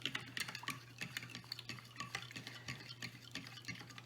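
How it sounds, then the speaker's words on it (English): A yeast and sugar mixture for bread is stirred in a bowl, giving quick repeated scraping and light clinking strokes in a close, quiet, steady rhythm with no talk. "So we're going to mix that up"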